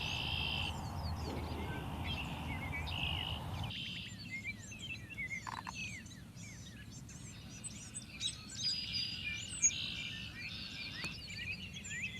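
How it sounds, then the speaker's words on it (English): Red-winged blackbirds calling in a cornfield, a flock giving repeated sharp chirps and buzzy trills at moderate distance over a steady insect hum, with a brief louder wash of sound at the start. "there is also a large group of red-winged blackbirds"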